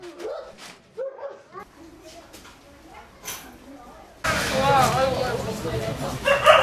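Abandoned dogs at an animal shelter yip, whimper and bark in short bursts while people speak nearby. Partway through, the scene becomes much louder with dense background noise and more barking.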